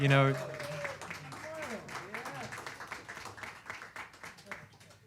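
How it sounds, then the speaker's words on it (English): An audience claps at a live jazz trio concert, with scattered applause mixed under a voice on a microphone that gradually thins and fades. "give a round of applause to Dom."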